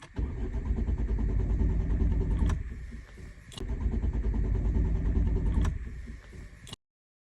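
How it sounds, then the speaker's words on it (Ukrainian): A Volvo car engine cranks repeatedly in two long, loud bursts separated by short pauses, the starter churning without the engine catching. "вона просто-напросто не заводилася"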